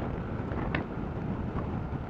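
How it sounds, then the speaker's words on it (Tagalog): Steady wind blowing over a mountain viewpoint at Gabaldon, Nueva Ecija, a continuous broadband rush with gentle swells and no voices. "tapos ihip pa ng hangin"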